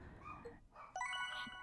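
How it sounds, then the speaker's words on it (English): Dogs bark and whimper faintly in the background, a few short yelps over about a second and a half. "I'm sorry if you can hear the dogs in the background."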